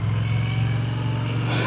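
A 2025 Triumph Speed Twin 1200 RS pulling away, its engine a steady, close low rumble that holds throughout, with a brief rise in wind or exhaust noise at the end.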